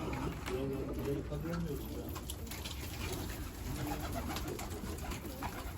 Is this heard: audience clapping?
no